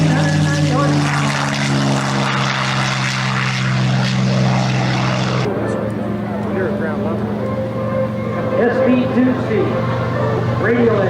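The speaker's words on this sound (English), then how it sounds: "We're going to listen to the great Navy and Marine Corps aircraft." WWII-era Navy and Marine Corps propeller aircraft with radial engines flying at a 1994 air show in Frederick, Maryland, a loud droning engine roar with a strong low hum that shifts pitch midway as a plane passes close.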